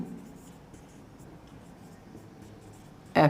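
Chalk or marker strokes on a board during a Class 10 coordinate geometry lesson, a faint steady scratching under room noise that ends in one brief, loud burst of writing.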